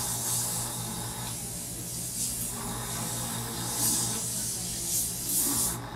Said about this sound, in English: get each one of you guys to experience and feel that how this works with an airbrush